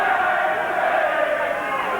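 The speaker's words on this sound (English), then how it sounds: "this crowd now singing its encouragement to Andries" At a boxing match between Jeff Harding and Dennis Andries, an arena crowd sings and chants encouragement for Andries, a loud, sustained mass of voices filling the hall without pause.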